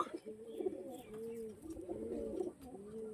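Pigeons of a rare pair coo close by in a steady repeating rhythm, soft low calls overlapping continuously for a few seconds.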